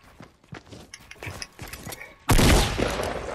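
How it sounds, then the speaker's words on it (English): Gunfire in the Fortnite battle royale game: light tapping and footsteps, then a sudden loud, sustained burst of shots that stays dense and harsh to the end. "We're shooting."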